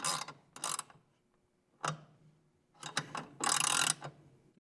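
A ratchet wrench tightens a bolt while a Honda Ridgeline 2017-or-newer Limited HDx is being fitted, giving several close bursts of rapid clicking separated by short pauses and ending in a longer run.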